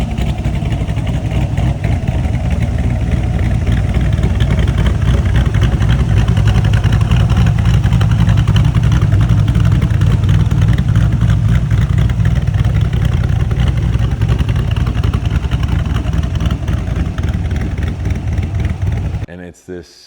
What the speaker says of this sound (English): dang, that car sounds freaking good.